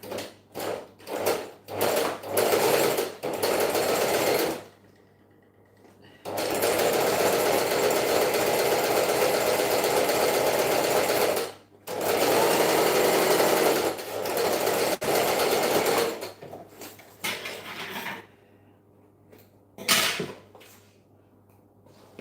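A sewing machine stitches fabric in loud, steady runs of several seconds, with brief stops and short start-stop bursts between them.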